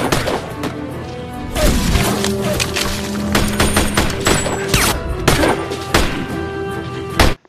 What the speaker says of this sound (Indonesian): aksi tembak-menembak pun terjadi lagi